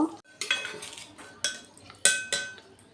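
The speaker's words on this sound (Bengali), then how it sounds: "ভালো করে মাখিয়ে নেব কারি পাতাটার সঙ্গে। আর একটু রান্না হতে দেব।" A utensil stirs a pan of chhana curry with curry leaves, giving several separate scraping and clinking strokes against the pan that sound close and fairly clear. No one speaks.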